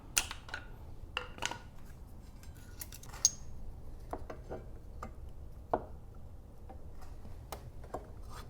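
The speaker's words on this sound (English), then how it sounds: "And I'm just going to clip off this zip tie." Zip tie clipped off beside a motorcycle wheel speed sensor during front wheel work on a Kawasaki Ninja 1000, a scatter of sharp close snips and clicks over a quiet background.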